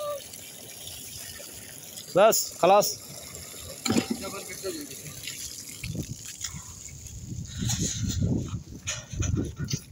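A hose runs water over plants at night in Kuwait, a rough gushing spatter that builds up in the second half, after a man's short remark and a few sharp background sounds.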